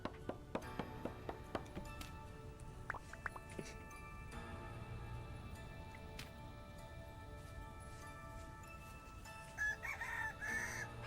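A rooster crows and chickens cluck in a multiplayer survival video game, with sharp taps and clucks early on and a longer crow near the end, fairly quiet and without talk.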